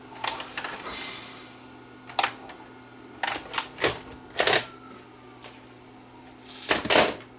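A Panasonic PVD4744 DVD-VCR combo ejects a tape with a series of sharp mechanical clicks and clunks from the loading mechanism, spaced irregularly over several seconds, close and fairly loud, with no talking.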